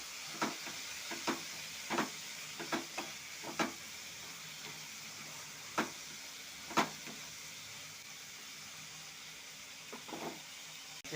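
Tomato pieces frying in a pan with turmeric powder and curry leaves, a low steady sizzle broken by sharp crackles and pops scattered throughout, close and moderately quiet with no talking.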